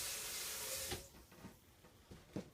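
Water poured into a hot pan just used to cook ribeye steak, a loud hissing rush that cuts off abruptly, followed by quieter bubbling and sputtering pops.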